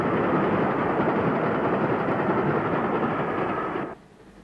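Steam locomotive 34001 Exeter pulls into Weymouth station on a train from Bournemouth, a loud, steady rumbling roar of engine and rolling wheels that holds for about four seconds before cutting away abruptly.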